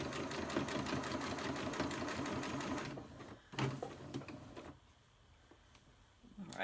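A sewing machine runs a steady, rapid rhythmic stitch while sewing a seam, running loud and continuous for about three seconds, then a brief clack and quieter mechanical handling noises follow.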